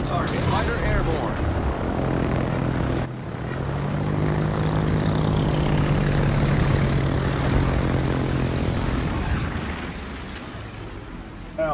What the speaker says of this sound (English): Fighter airborne.